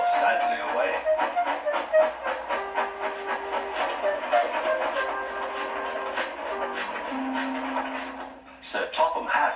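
A steam engine train puffs away in rapid rhythmic chuffs with a faint tonal whistle-like hum, fading slightly before a sharp hiss near the end.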